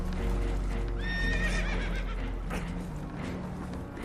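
Spooked horses in the video game Red Dead Redemption 2 let out a loud, shaky whinny that rises and falls, over clip-clopping hooves and a dense low rumble of water and commotion aboard a damaged boat.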